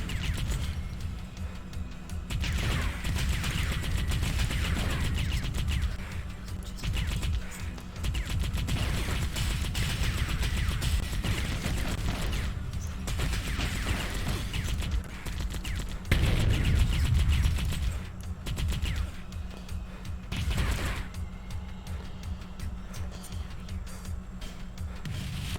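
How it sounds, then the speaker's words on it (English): Disc launchers firing in a video game, repeated heavy thumping shots and clattering impacts forming a dense, continuous barrage over a low rumbling backdrop. "Let's shoot disc launchers."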